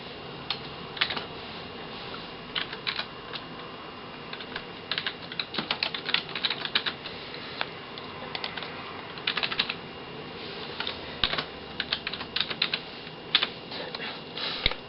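Steady typing on a computer keyboard while entering login credentials, with irregular bursts of close, crisp key clicks running through the whole stretch over a faint background hum.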